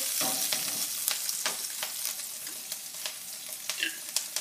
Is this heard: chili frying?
yes